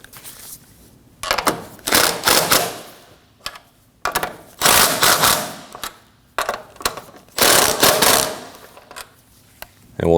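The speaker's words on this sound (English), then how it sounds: "With the vehicle at ride height, we can go ahead and tighten down the 3 upper bolts." A ratchet tightens the upper strut mount bolts on a 2003-2006 Subaru Baja at ride height, giving several close bursts of rapid clicking separated by short pauses.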